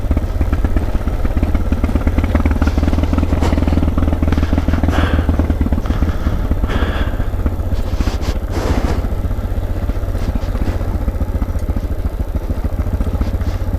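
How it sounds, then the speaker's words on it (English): Carbureted motorcycle engine running steadily while being ridden on a mountain road in the Rockies, a loud constant low drone with wind rush and some clatter throughout, no talking. "For a carbureted bike, man, this thing has done tremendous."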